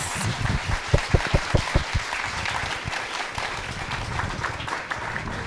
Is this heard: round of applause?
yes